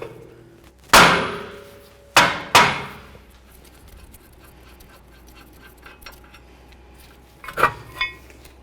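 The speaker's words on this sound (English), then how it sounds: "now I'm going to give it a bonk from the back with a metal hammer" A metal hammer strikes the back of a rear brake rotor on a 2010–2014 Mercedes-Benz E350 with sharp, ringing clangs: three loud blows close together, then two lighter taps after a pause.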